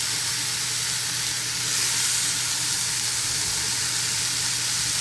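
Tomato, chopped eggplant and potato hitting a hot oiled frying pan, a dense steady sizzling hiss that swells slightly after a couple of seconds, close and even, no voices.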